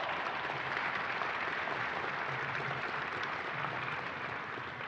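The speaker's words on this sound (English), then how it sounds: "Let's give them a round of applause." Sustained dense applause from an audience at a museum event honoring veteran poll workers, steady and loud throughout with no clear break, a faint murmur of voices underneath.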